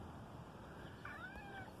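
A cat lets out a short, faint meow in a quiet room, a single brief call with a rising-falling pitch over low background hiss.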